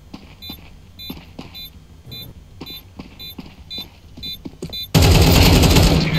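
Gunfire in Counter-Strike 2 rings out as steady, evenly spaced shots, each paired with a sharp high ping. Near the end a dense, loud burst of rapid fire takes over.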